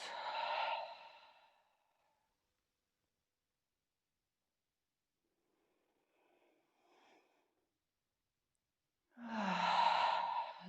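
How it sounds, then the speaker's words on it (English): Two deep, breathy exhales at the start and end, each about a second or two long, separated by near silence with a couple of faint breaths between, close and soft. "Big inhales. Long exhales."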